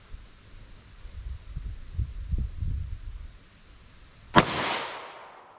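A single sharp gunshot from a 3.2-inch Taurus G2C subcompact pistol firing Speer Gold Dot 115 grain ammunition, a loud close crack with a decaying tail after a low rumbling background.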